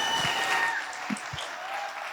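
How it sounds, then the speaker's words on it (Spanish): A church audience applauds in a short burst of steady clapping that tapers slightly toward the end. "démosle un fuerte aplauso a Alejandro Mendoza"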